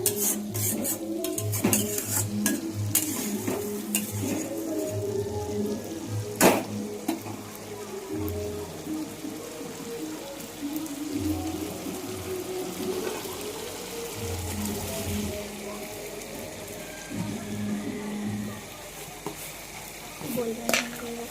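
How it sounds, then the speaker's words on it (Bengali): Onion, tomato, ginger and garlic spice paste fries in a pan while being stirred, giving a steady sizzle with repeated scraping strokes and clinks of the spoon throughout. "এবার এই মশলাটা এখন কষা হবে।"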